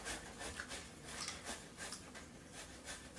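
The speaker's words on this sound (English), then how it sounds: "Grating potatoes" Potatoes being grated for gnocchi, a very faint, rhythmic scraping rasp repeating in quick even strokes, close but quiet, with no talking over it.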